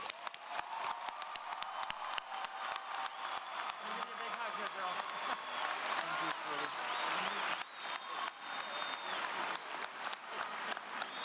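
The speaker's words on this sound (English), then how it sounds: "Give yourself a round of applause." A large crowd applauds steadily at a high school graduation ceremony, dense clapping filling the space with a few cheers, the ovation sustained and even throughout without dying down.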